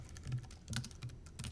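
Keys clatter on a computer keyboard as a book review is typed, bursts of close, crisp clicks arriving in quick irregular clusters with brief pauses between them.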